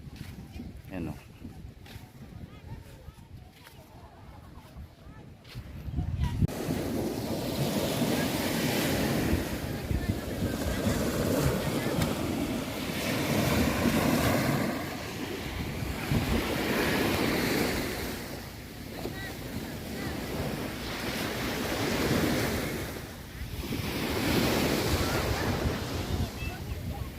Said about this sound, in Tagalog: And syempre okay din yung dagat dito.